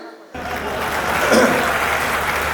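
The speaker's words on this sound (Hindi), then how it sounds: "हंसना नहीं था, यहां ताली बजानी थी। अब बजाइए।" An audience at a Hindi comedy poetry recital breaks into sudden applause after a short quiet, clapping steadily and densely throughout.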